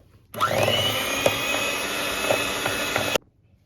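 An electric mixer whirs steadily for about three seconds, beating chilled homemade pastry cream before it is folded into whipped cream, then cuts off abruptly.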